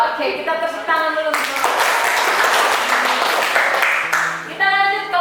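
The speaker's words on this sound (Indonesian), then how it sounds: "Oke, kita tepuk tangan dulu." A class of teacher-training students applauds in a classroom: a dense burst of clapping lasts about three seconds, with voices speaking just before and after it.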